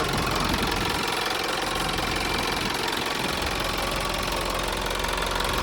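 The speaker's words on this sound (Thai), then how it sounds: "สภาพนี้ดูเร่งนะดูเร่งนะ" A 2008 Isuzu NKR130 truck engine runs close by with a steady, loud diesel clatter and rumble that holds an even level throughout, without any clear rise or fall in pitch.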